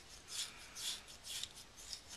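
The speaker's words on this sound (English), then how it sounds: "We're going to take our teasing comb. We're just going to rake." A teasing comb rakes through hair in soft, raspy strokes, four or five brushy swishes in a loose rhythm, quiet and close with no voices.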